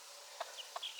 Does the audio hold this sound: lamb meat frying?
no